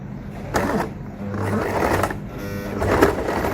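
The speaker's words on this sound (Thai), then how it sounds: "คุณครูจะเย็บตรงมุมนี้นิดหนึ่ง" Sewing machine stitching the corner of a fabric bag, its motor whirring in short bursts and steady runs, close and fairly loud, with a voice faintly present.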